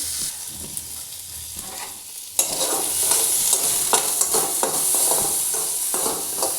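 Amra (hog plum) pieces fry in oil with panch phoron, salt and turmeric for a chutney; a quieter sizzle jumps louder as stirring begins, with repeated spatula scrapes against the pan.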